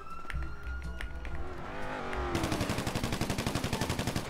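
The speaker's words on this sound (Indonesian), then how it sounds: "Depan nih, suara tembakan." Rapid automatic gunfire bursts out in a video game drive-by gang war at North Side, loud repeated shots in a fast steady rhythm with car noise, following quieter sounds.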